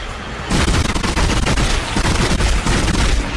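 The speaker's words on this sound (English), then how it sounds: "I can sort of shoot the body a little bit." Rapid bursts of gunfire from shooting in the video game Dead Space start abruptly and continue as loud, dense, repeated shots that fill the rest of the moment.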